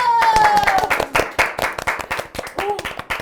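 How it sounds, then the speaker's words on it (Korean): A small group claps in bursts of sharp, distinct handclaps after a playful oath by a budget mobile phone customer; voices chatter and laugh over the clapping. "박수!"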